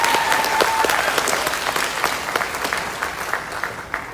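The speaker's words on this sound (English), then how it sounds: "would you give them a round of applause in advance?" Audience at a choir pops concert applauding a combo band, a steady wash of clapping from many hands, fairly loud and even, slowly tapering off toward the end.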